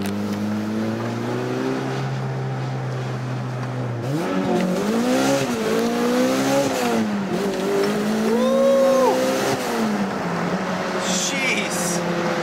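A turbocharged 2000 Toyota MR2 Spyder with a 2ZZ-GE engine running 10 lbs of boost accelerates hard in first gear, heard from inside as a loud, steady engine drone that climbs in pitch through the rev range, with brief dips in between.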